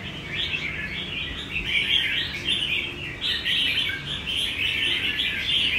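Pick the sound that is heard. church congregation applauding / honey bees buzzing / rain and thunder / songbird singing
songbird singing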